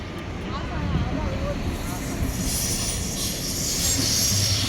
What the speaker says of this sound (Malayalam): സ്വിസ് ട്രെയിൻ പോകുന്നുണ്ടോ